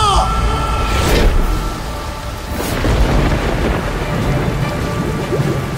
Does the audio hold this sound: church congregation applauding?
no